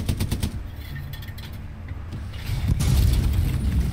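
Machine gun fire and rattling mechanical clatter in the World War II shooter Hell Let Loose, bursts of rapid shots with a heavier, louder stretch of firing toward the end.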